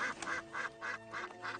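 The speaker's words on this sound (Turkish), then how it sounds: "Hey bak, ördekler de var." In a dubbed animated film, cartoon ducks quack in a regular run of about five nasal calls. The calls are moderately loud and come with no other talk.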